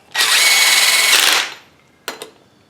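A power drill runs lug nuts down onto the hub of a 1995-97 Ford F-250, one loud, close, sustained whir lasting over a second, then two brief clicks after it stops.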